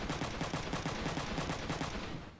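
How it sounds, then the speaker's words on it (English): Mech gunfire in the video game Front Mission 3 rattles out as a rapid, loud, continuous stream of shots that lasts about two seconds before tailing off, with no talking. "he might just shoot all of his guns"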